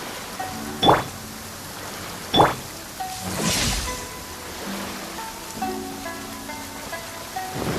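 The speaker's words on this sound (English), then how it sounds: "Taking a stroll in the middle of a downpour certainly rouses the spirit." A downpour in Genshin Impact's Inazuma region hisses as a steady wash of rain, broken by two sharp impacts and a brief swelling rush partway through, with no talk over it.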